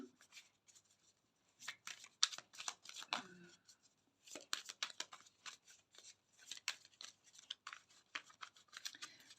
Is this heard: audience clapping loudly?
no